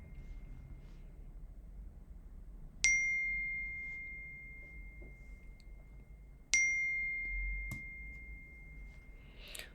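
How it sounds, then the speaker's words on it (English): A phone gives two sharp notification dings a few seconds apart. Each is a clear bright tone that rings out and slowly fades over quiet room hiss, and a faint third chime comes near the end. "My phone is blowing up."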